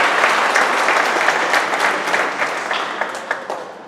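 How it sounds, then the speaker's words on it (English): An audience at a community gathering against city violence breaks into a sustained round of applause, with dense, loud clapping that tapers slightly toward the end. "So we want to just give a round of applause for everybody being here."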